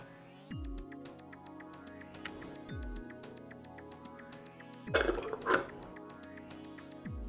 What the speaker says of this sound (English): It wants to cough again.